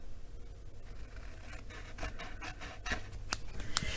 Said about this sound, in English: I will trim those off so that they stay looking nice